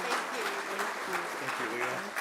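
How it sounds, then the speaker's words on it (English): Audience applause at a First Nations guardians gathering, continuous clapping with a voice speaking over it. "One more round of applause."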